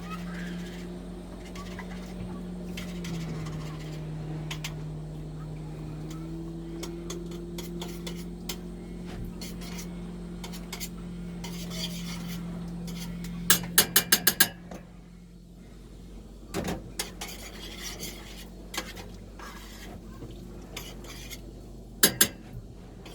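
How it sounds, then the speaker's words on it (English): Utensil scrapes and clinks against a pot as Thai curry is stirred with tomato paste, cooking on a boat; soft irregular tapping over a steady low hum, with a few sharper metallic clicks near the end. "Stir that all down."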